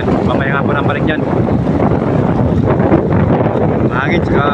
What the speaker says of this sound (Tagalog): Mahangin, tsaka malakas ang ulan.